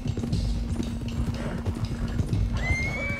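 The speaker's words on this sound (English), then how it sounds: "Get these horses to Clemens Cove," Horses' hooves clip-clopping steadily in Red Dead Redemption 2 while a horse whinnies, with a constant low hum beneath and a rising tone near the end.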